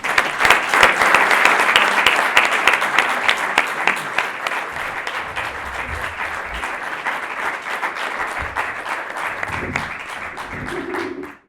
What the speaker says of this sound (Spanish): así que démosle un aplauso y muchas gracias